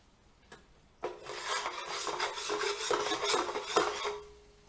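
Spatula being scraped clean against a pan while making caramel, a close raspy scraping that starts after a single tap and continues in uneven strokes for a few seconds.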